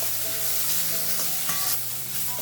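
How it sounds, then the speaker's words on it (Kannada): Tomatoes and curry leaves fry in a pan, giving a steady close sizzle with soft stirring scrapes throughout and no talk. "ಟೊಮೆಟೊನು ಸಾಫ್ಟ್ ಆಗೋ ತನಕ ಇಲ್ಲಿ ನಾವು ಇದನ್ನು ಫ್ರೈ ಮಾಡ್ಕೋಬೇಕು"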